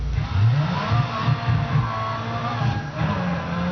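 A car in the Midnight Club LA racing game accelerates hard with the engine revving loudly and steadily, its droning pitch rising and falling in repeated surges close up, with no talking.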